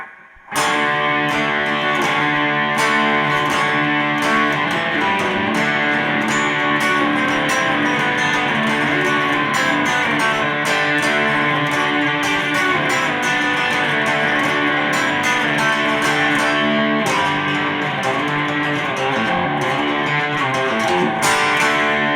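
Distorted electric guitar plays the lone guitar part from a song, with heavy chords and slides in an uneven, punchy rhythm, loud and close with no voices.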